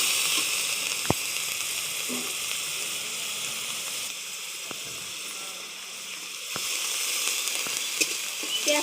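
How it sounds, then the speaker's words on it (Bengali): Onion paste lands in hot oil in a pan for chicken malai curry, giving a continuous close sizzle with a few sharp clicks of utensils against the pan. "আমি এবার পেঁয়াজ বাটাটা দিয়ে দেবো।"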